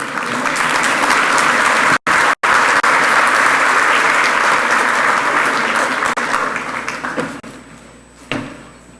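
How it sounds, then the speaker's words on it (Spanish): Sustained, loud applause from a conference audience at a business event on sustainable infrastructure and innovation, steady for most of the span with two brief cutouts, then fading out near the end. "Para él un caluroso aplauso,"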